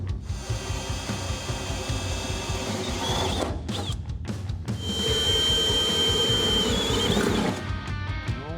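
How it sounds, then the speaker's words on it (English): A drill bores bolt holes for a battery hold-down on a 632 big-block OBS Chevy truck, grinding loudly and continuously with a brief break midway, close up and with no talk. "So let's get them drilled out."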